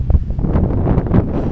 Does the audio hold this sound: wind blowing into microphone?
yes